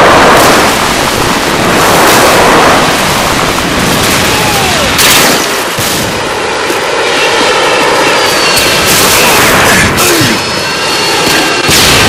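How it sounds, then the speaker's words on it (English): Harrier jets roar in over a video game battlefield, a loud sustained engine rush that swells and passes with sharp bursts of gunfire crackling throughout, no voices. "Friendly Harriers inbound"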